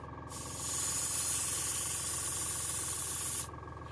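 An airbrush with a 0.5 mm nozzle sprays with its trigger pulled fully back, giving a loud, steady hiss of air and paint. The hiss starts sharply, holds even for about three seconds, then cuts off, with no talking.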